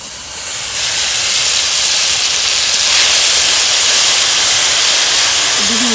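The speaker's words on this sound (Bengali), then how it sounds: "গরম তেলের মধ্যে এই ব্লেন্ড করাগুলো দিয়ে দেবো" Blended chutney paste hits hot mustard oil with a loud, steady, hissing sizzle that starts up about a second in and keeps going unbroken at close range, with no voices.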